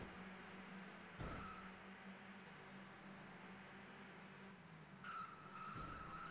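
A VW Lupo Cup car in the racing game Turbo Sliders Unlimited accelerates with a steady engine drone, brief tire squeals cutting in twice, heard faintly and without talk.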